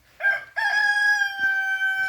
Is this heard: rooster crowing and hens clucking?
yes